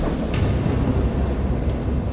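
A steady, loud wash of heavy rain with low, rolling thunder rumbles beneath it runs unbroken throughout, with no voices.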